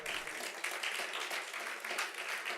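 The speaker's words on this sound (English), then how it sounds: "Give yourselves a round of applause for showing up." Keynote audience applauding themselves, a steady wash of many hands clapping at moderate distance, fairly soft and even throughout without pauses.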